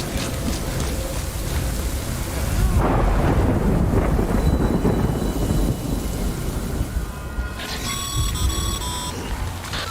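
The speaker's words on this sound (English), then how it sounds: "Good thing it was raining." Rain and rolling thunder in the Death Stranding video game, with a steady downpour and a heavy rumble swelling midway, sustained and loud, and a few electronic beeping tones near the end.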